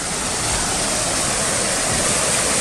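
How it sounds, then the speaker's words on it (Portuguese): A large waterfall swollen by heavy rain roars as a dense, steady, loud rush of falling water that fills the whole clip without a break. "tem uma cascata bem grande aqui"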